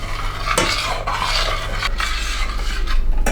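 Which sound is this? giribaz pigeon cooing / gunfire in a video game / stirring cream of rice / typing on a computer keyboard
stirring cream of rice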